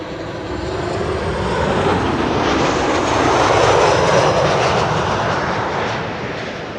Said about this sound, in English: Transavia over here, arriving back from Alicante.